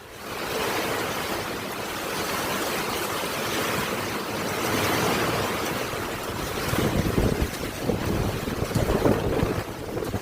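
A strong rainstorm with gusting north wind roars steadily, a dense broadband rush with rumbling buffets against the microphone that grow rougher toward the end, no voices.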